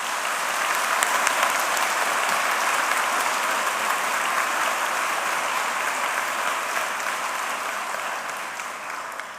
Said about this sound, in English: So if you wouldn't mind one last round of applause for Dr. McCarthy.